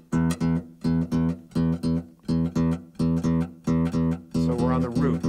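Acoustic blues guitar in E played in a one-string-at-a-time style, short plucked phrases repeating in a steady rhythm, close and clear, ending with a busier strummed flourish and no talk.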